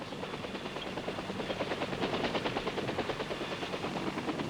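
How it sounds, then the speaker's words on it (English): Assault helicopters arrive at a pickup zone with loud, rapid rotor thumping that builds over a few seconds, a steady chopping pulse filling the air. "Assault helicopters arrive in their pre-designated pickup zones."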